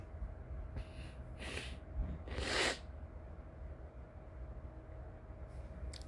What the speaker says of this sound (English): I had to blow my nose out